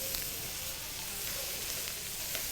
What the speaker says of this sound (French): Le chou coupé en petits morceaux comme ça va cuire rapidement.